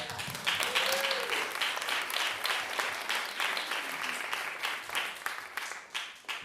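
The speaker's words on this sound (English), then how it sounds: "Round of applause for the charter." A community assembly audience applauds together, producing a dense, sustained wash of many hands clapping at moderate distance, with a faint voice briefly audible early on.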